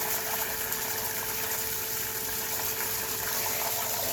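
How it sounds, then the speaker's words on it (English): An above ground pool pump runs on its backwash setting, giving a steady close whirring hum with rushing water over the full length, no talk. "Turn the pump off, switch it over to the backwash setting. I turn the pump on."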